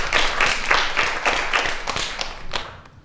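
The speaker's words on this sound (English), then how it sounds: "So give her a round of applause." Audience clapping at a teen council anti-bullying session, a moderate cluster of hand claps in a loose rhythm. It fades out toward the end, and no one speaks.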